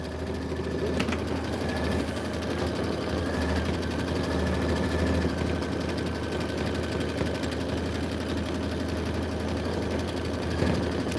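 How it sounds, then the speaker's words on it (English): A sewing machine stitches steadily in a sewing and vacuum shop, its continuous motor hum and rapid needle chatter running unbroken and fairly close for the whole stretch. "Cindy, you're stitching?"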